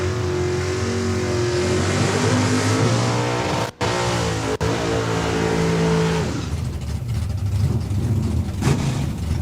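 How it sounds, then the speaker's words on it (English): Drag race cars at Saskatchewan International Raceway roar at full throttle, a loud continuous engine wail with rising pitch that briefly cuts out, then fades into a broader rumble as the cars pull away. "Wow, what a drag race."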